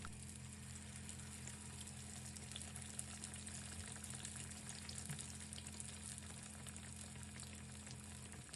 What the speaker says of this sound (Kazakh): Енді осылай бір-бірден орташа отта қуыратын боламыз